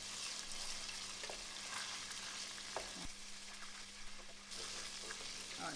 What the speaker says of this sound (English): so let's just infuse the oil